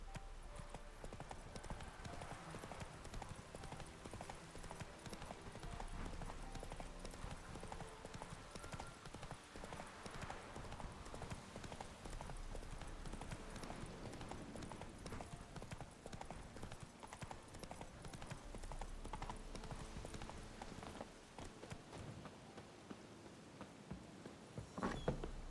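Roach, Geralt's horse in The Witcher 3, galloping with a continuous rapid clip-clop of hooves throughout, steady and fairly close under a game soundscape, no speech.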